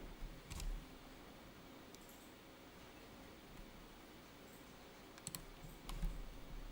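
Soft, sparse clicks of keys being pressed on a computer keyboard, a few isolated taps over a quiet hiss of background noise.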